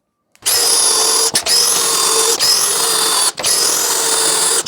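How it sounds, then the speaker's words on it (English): A power drill on hammer setting runs in three loud, gritty bursts with a harsh rattling buzz, separated by quick pauses, close up, during a bookcase build. "Now I got it on hammer setting."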